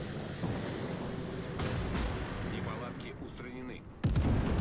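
Battleship turrets fire in a naval combat video game, with dense explosive booms rumbling throughout and a sharp loud salvo near the end.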